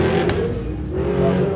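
A Land Rover off-road vehicle at an international owners' show engine-drones steadily as it eases down off a log wall, a continuous mid-level motor hum with slight rises in revs and no talking.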